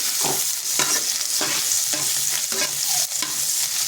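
Prawns frying with salt in a hot pan, a dense continuous sizzle broken by regular scraping strokes of a spatula roughly every half second, close up with no speech.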